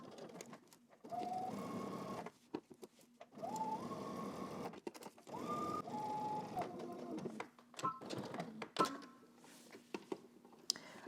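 A sewing machine stitches a garment facing in short bursts, its motor whirring up in pitch and stopping between runs, close and fairly quiet with no talk.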